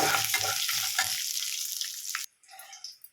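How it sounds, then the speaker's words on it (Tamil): Curry leaves hitting hot tempering oil in a small pan, a loud, close crackling sizzle that gradually fades, cuts off abruptly and then returns faintly. "இப்போ கருவேப்பிலை போட்டேன். தாளிப்பு வச்சு"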